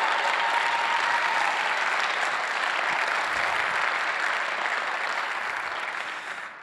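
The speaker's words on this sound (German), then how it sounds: "Und deswegen nochmal einen großen Applaus an Günther Faltin" A large audience at a keynote talk breaks into loud, dense, sustained applause, a steady wash of clapping that fades slightly toward the end.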